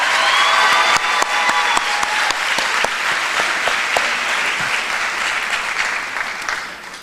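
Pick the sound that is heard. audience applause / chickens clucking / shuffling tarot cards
audience applause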